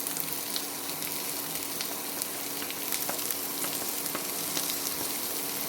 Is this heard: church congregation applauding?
no